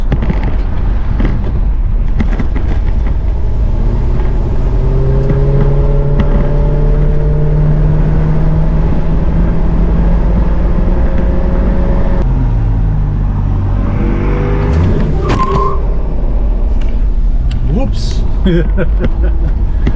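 A 1968 Pontiac LeMans accelerating on the road, its engine note climbing in steady rising harmonics from inside the car, loud and continuous, with a shift-like break near the end and some brief clatter.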